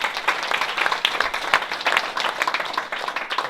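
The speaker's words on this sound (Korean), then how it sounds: "우리 박수 한번 하겠습니다." A church congregation bursts into applause at an installation service for a pastor, many hands clapping in a lively, irregular patter with sharp individual claps standing out, close and moderately loud.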